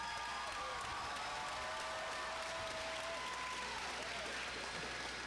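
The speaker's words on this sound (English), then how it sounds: "give a round of applause" Graduating seniors at a military academy ceremony clap together in one steady, dense wash of applause that carries evenly for several seconds from a large indoor audience.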